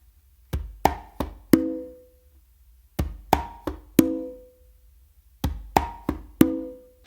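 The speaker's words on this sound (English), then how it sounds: "we're actually gonna do bass, close slap, finger, one open" A conga drum plays a slappy tumbao phrase of bass, close slap, finger stroke and one ringing open tone. The four-stroke group repeats three times with pauses between, heard close and alone.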